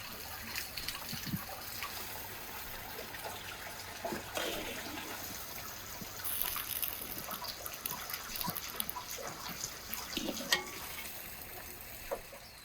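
Tap water runs steadily while onions are rinsed, a continuous close trickle and splash with small irregular spikes as the onions shift under the stream.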